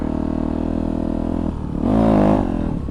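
A motorcycle engine holds a steady mid-pitched drone, dips, then swells as the rider gets rolling for a wheelie, loud and close with no talk.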